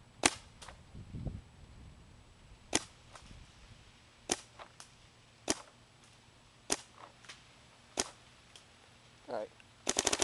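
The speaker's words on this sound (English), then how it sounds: "brand new MacDev Droid. I'm going to be shooting it in semi." A MacDev Droid airsoft rifle fired in semi-auto, about a dozen sharp snapping shots at uneven intervals, ending in a quick cluster, with faint murmured talk early on.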